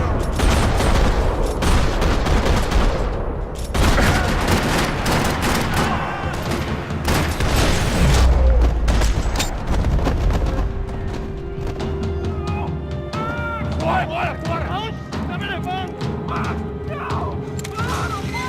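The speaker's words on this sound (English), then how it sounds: "Another parking lot rattling with gunfire." Video game gunfire in a parking lot in Max Payne 3: loud rapid bursts and volleys of shots with thuds and impacts, easing into sparser shots and clatter.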